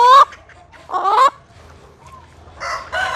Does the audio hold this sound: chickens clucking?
yes